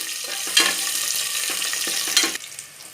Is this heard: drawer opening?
no